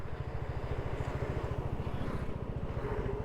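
Royal Enfield Classic 350 motorcycle engine thumping steadily at slow speed in third gear, a loud, even low-pitched pulse with no voices over it.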